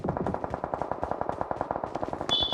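Rapid automatic gunfire in the battle royale video game BGMI, a steady burst of close, evenly spaced shots lasting a couple of seconds with a brief high tone near the end.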